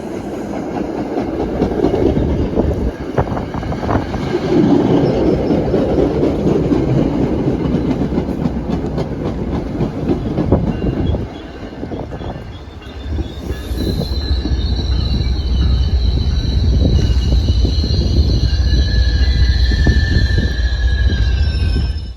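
A commuter train on the MBTA Fairmount Line rumbles along the rails with a loud continuous roar, wheels squealing and clattering, then high-pitched screeches ring out over the steady rolling noise.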